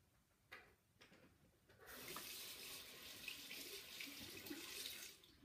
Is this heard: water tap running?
yes